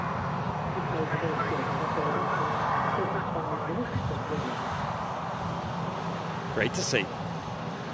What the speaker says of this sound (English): Also got the KLM E2 on the way out as well